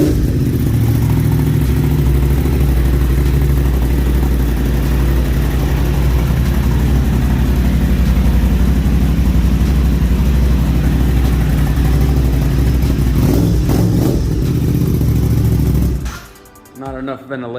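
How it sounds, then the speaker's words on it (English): A 2021 Aprilia RS660 motorcycle fitted with an SE Project exhaust idles loudly and steadily at close range indoors, its low engine rumble running continuously before cutting off abruptly near the end. "the SE Project, is the best sounding exhaust for the RS660 these days"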